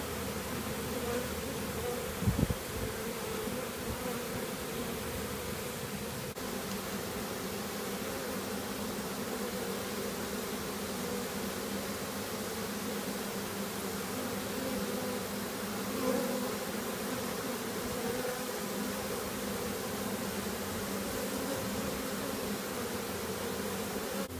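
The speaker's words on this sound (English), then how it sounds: "So my objective is to let these bees now all congregate in the box." Honey bee swarm buzzing steadily as the bees crowd into a box outdoors, a continuous droning hum at moderate level with a brief thump early on and no voices.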